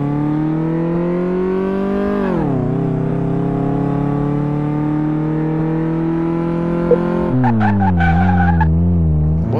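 Car test drive in the Car Mechanic Simulator video game: a loud, steady engine drone with shifting pitch, a dip and recovery, then tire squeal near the end, alone and close.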